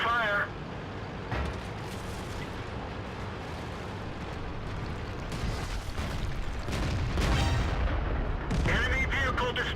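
A tank cannon fires in World of Tanks during a Japanese STA-1 medium tank match, heavy booming blasts rising toward the end amid in-game noise, with a voice talking at the start.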